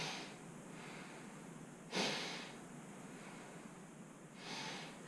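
A deep breath drawn in during a breathing warm-up for singing, two airy inhales around the second and fourth-to-fifth seconds over a steady soft hiss, close and fairly quiet, no talking.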